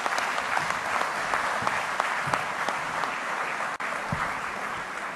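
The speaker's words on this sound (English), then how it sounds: "let's have one more huge round of applause for our dynamic governor" Audience applause at a banking conference after a special address by a central bank governor, a dense, steady patter of many hands clapping that fills the hall without pause, with no talk over it.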